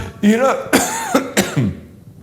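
A single loud, rough cough close up, with a raspy throat-clearing quality and a brief vocal tail.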